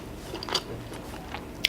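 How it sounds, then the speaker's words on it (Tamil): Someone bites and chews chicken American chopsuey with crispy noodles, giving a few close, brief crunches and soft chewing sounds in quiet surroundings. "சாப்பிடும்போது அவ்வளோ ஜூஸியாக இருக்குது."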